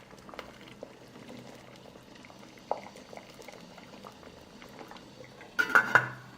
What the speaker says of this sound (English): From the moment the water boils, I will cook for 30 minutes, covered.